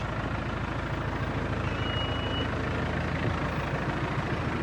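A tow truck creeps slowly downhill while braking, its engine giving a steady, close, loud rumble, with faint reversing beeps sitting above the drone.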